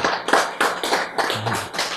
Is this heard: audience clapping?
yes